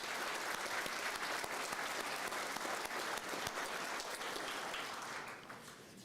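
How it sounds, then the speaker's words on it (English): An audience at an awards ceremony claps in a dense, sustained round of applause from many hands, steady throughout and only starting to thin out near the end. "So just give everyone a round of applause for what they've done for this group."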